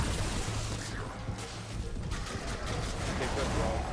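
Gunfire in the video game Remnant from the Ashes: a dense, continuous burst of shots and rumbling impacts running through the whole stretch at steady loudness, with a player's voice over it.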